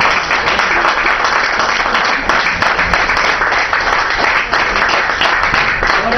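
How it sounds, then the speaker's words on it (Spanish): A live audience applauds guitarist Julián del Valle, a steady, dense wash of clapping that stays loud and even throughout with no voices on top. "Yo le pido un aplauso para Julián del Valle."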